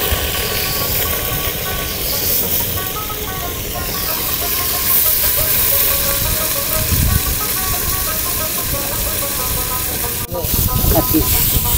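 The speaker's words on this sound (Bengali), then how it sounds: "এই যে মাছ ভাজা শুরু হয়ে গেছে।" Fish frying in hot mustard oil aboard a floating fishermen's boat makes a loud, constant hiss and sizzle that fills the whole stretch, with faint clatter now and then.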